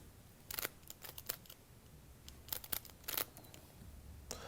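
A Rubik's cube is turned through a false shuffle, its plastic layers giving quiet, crisp clicks in irregular clusters, with no talking.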